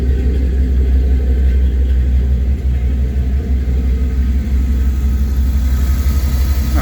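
The engine of RedRam, a car, runs at a steady idle with a deep, close rumble and a slight uneven pulse throughout, and no one speaks.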